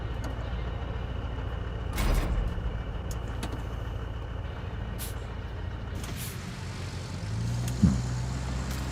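A heavy truck engine labours in the RoadCraft video game, wheels failing to grip while stuck off-road, a steady low rumble throughout with a couple of brief hissing bursts like air-brake releases, fairly close and with no talking.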